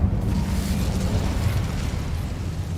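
Hogwarts Legacy's Incendio fire spell erupts in a dense, roaring burst of flame that holds a steady low rumble for a few seconds, loud and sustained with no voices.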